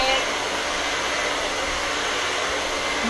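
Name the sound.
Express Ion Dry Plus blow dryer drying hair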